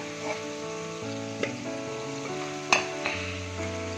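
Pieces of ash gourd sautéing in oil in a pan, a soft continuous sizzle with occasional light clinks of a spoon, set against a steady tonal hum in the background.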